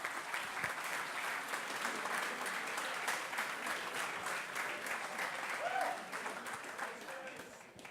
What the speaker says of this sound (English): So let's give John a nice round of applause here